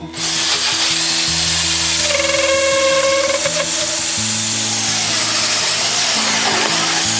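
A power drill bores steadily through foam down toward a wood block placed underneath, a loud, continuous whirring grind close up.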